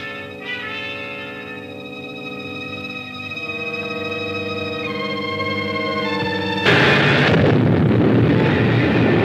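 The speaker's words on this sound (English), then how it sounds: "The orbit jet's going to be blown to bits." Loud, sustained roar of the orbit jet exploding in an old space adventure serial, swelling into a dense burst of noise over a tonal drone, with no talk.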